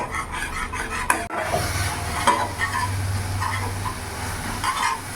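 Spice paste with salt and turmeric paste frying in a pan for a vegetarian raw banana kofta curry, stirred steadily so it scrapes and clinks against the pan under a continuous low sizzle.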